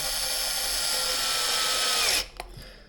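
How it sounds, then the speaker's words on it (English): A power screwdriver whines steadily for about two seconds while doing up screws on an Arrma Outcast 4S V2 RC car, then stops abruptly and a few small clicks follow. The sound is close and loud, with no talk. "Do up these 2 screws."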